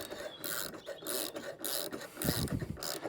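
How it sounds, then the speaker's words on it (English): A spanner ratchets and grinds as a 19mm nut is tightened onto the output shaft of an Allett Cambridge cylinder mower, several close metallic clicking and scraping bursts with short pauses. "then simply do up your 19mm nut"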